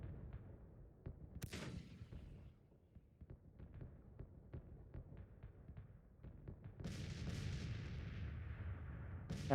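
Cannon artillery fires in the Civil War strategy game Grand Tactician, with a rapid series of sharp, distant booms and cracks and a louder, denser volley near the end.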